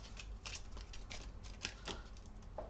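Playing cards being shuffled during a tabletop session of Arkham Horror: The Card Game, heard as a quiet run of crisp riffles and papery taps spread over a few seconds, with no talking.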